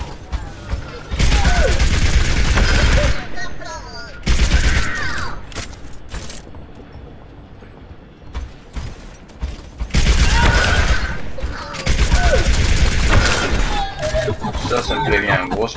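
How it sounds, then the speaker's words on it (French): Bastion's heavy machine gun fires in Overwatch in long, dense bursts of rapid gunfire, two sustained volleys separated by quieter stretches of scattered game noise. "Grosse mitrailleuse, beaucoup de puissance de feu."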